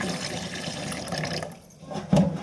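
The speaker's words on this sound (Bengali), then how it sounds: "চিকেনটা ধুয়ে নিই আগে।" Raw chicken rinsed under a running kitchen tap, a steady splash of water over meat in a sink that briefly eases off, then returns with a sharper spatter near the end, with no voices.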